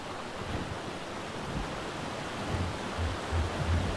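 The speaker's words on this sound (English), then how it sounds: "Okay, we do have the waterfall." A waterfall in ARK: Survival Evolved on The Island map, a broad continuous roar of rushing water like surf and wind, loud and steady, with low rumbling swells toward the end and no talking.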